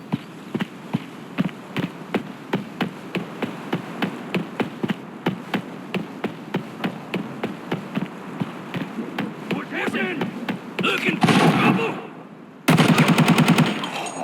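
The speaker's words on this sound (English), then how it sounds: "Someone's shooting!" Gunfire in the mobile shooter Arena Breakout, a steady run of sharp single shots at a regular rhythm, then dense automatic bursts near the end, with a voice speaking in the game.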